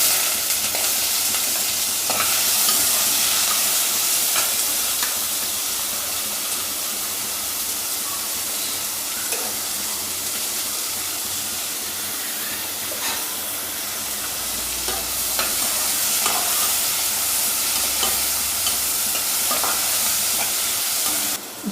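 Onions sizzle in hot oil with spices for mutton kuzhambu, giving a loud, steady frying hiss with occasional scraping stirs of the pan throughout, and no talk.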